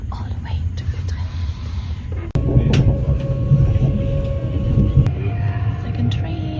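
Rumbling rolling noise inside a passenger train travelling from Frankfurt, Germany toward Utrecht in the Netherlands, steady and fairly loud, with a sharp knock partway through and faint voices murmuring underneath.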